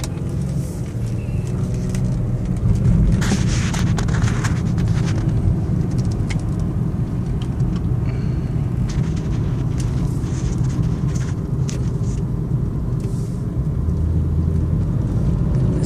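Steady interior drone of a 2001 BMW 325i driving, low engine and road rumble filling the cabin with faint rattles and ticks, continuous throughout without talking.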